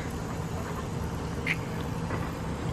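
Ducks quack at an animal exhibit shared with peacocks and pigs in Wisconsin Dells, with one brief, clear call rising over a steady outdoor background hum.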